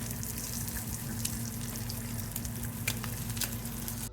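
Fish and bacon fry in a pan with a steady, close crackling sizzle, while a low electrical hum runs beneath and occasional sharper pops and clicks break through.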